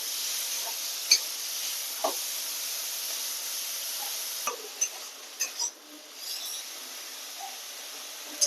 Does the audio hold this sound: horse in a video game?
no